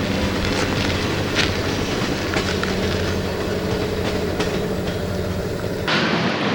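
An Erie Lackawanna passenger train leaving Stroudsburg station rumbles steadily, wheels clicking over rail joints with a low continuous roar, loud and close, and a squeal near the end.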